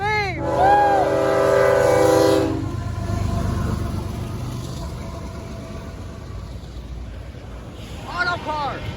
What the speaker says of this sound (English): I just caught 2 CSX trains today